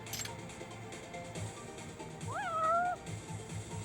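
A cat meows in the video game Lost Judgment, a single drawn-out rising and falling meow that stands out clearly over steady background game ambience, with a brief noise burst at the very start.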